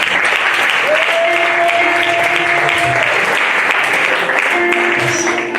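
A church congregation applauds steadily at a pastoral appreciation celebration, dense clapping held throughout while sustained organ or keyboard tones play beneath it.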